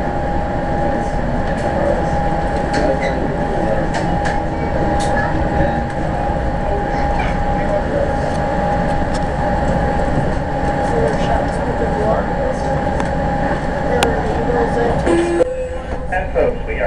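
An Amtrak Pacific Surfliner passenger train rolling into San Juan Capistrano station, heard from inside the car as a steady loud rumble with squeals and clanks throughout, easing slightly near the end.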